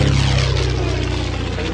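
A propeller airplane passes close by, its droning engine and buzzing prop steady and loud, with a slight pitch sweep as it goes past; no one speaks.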